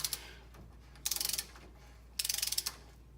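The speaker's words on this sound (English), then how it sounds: "torque this to 15 foot-pounds while spinning the rotor each direction" A torque wrench ratchets on the spindle nut of a 1972 Chevy C10 front suspension. Two quick bursts of close, crisp clicking are separated by quiet pauses.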